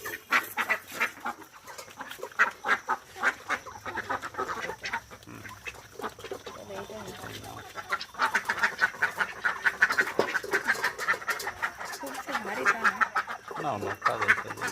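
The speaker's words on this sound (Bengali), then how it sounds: "তো দেখো একটা হাঁস, এই হাঁসটা নিলাম।" Domestic ducks quack intermittently at a home where they are raised, mixed with other fowl calls and ongoing nearby conversation.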